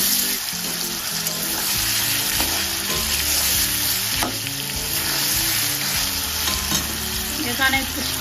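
Potatoes fry in a pan with ginger garlic paste, a loud close sizzle with steady stirring and scraping throughout, no voices.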